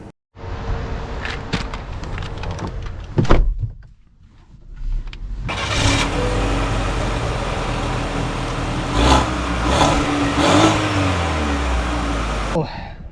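A new Buick Envision ST starting off and accelerating, the engine rising into a steady hum with road noise, heard from inside the cabin after a brief mechanical whir and some clunks.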